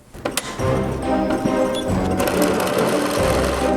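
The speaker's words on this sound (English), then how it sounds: "I'm sewing the outer edge, and I'm just going around in a circle." A domestic sewing machine runs steadily around the outer edge of a fabric witch hat, a close, loud, continuous whirring that starts after a brief click and holds without pause.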